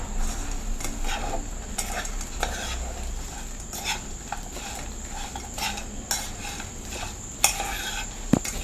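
Raw green mango pickle being stirred in a pan in a Kerala home kitchen: repeated scraping and clinking strokes of a spoon against the pan at an irregular rhythm, close by, over a soft sizzle.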